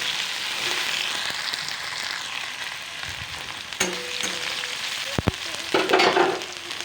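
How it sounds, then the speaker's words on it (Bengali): Tomatoes fry in a pan for an aloo gobi dish, giving a steady close sizzle that runs throughout, with a few sharp clinks and scrapes of stirring near the end. "এবার টমেটোগুলিকে একটু ভালো করে 5 মিনিটের মতো ফ্রাই করে"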